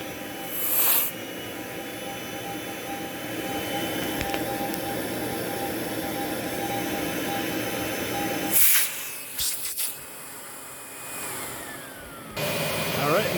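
ProTeam 1500 XP vacuum cleaner running during a suction test, steady loud roaring whine that shifts in pitch and dips briefly when suction changes, with short bursts of rushing air.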